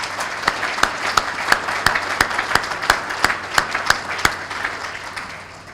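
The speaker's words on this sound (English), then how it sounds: "How about another round of applause for all those students?" Applause for students at a civic day event with Kiwanis and Rotary members, a crowd clapping steadily with distinct loud claps from someone close by, tapering off at the end.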